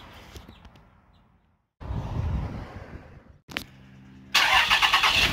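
A Dodge Ram 3500 truck engine cranks and fires, a short starter burst followed by a loud broadband roar as it catches, close by with no talk.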